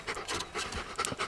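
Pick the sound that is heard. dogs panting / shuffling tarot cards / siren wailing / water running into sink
dogs panting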